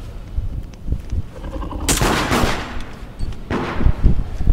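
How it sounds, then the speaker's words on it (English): Gunfire in the video game Deceit: two sharp, loud shot bursts about a second and a half apart, with faint game noise between them and no talking. "Sorry, I just shot."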